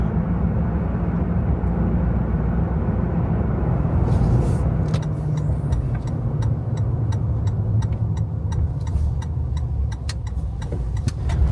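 A vehicle drives along a remote mountain road and rolls onto gravel: a steady, loud engine and road rumble runs throughout, with scattered light ticking and crunching from the loose surface in the second half.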